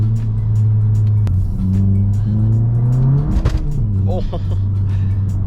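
Straight-piped Volkswagen GTI revving hard under load, a loud steady exhaust drone rising in pitch with a brief crackle near the end, while someone talks over it.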